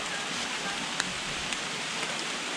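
Heavy summer rain pours steadily at a campsite, a dense continuous hiss with occasional louder drops striking nearby surfaces.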